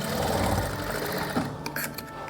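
A sewing machine stitches blouse fabric in a steady, close, whirring run for more than a second, then stops and leaves brief cloth rustles and light handling clicks.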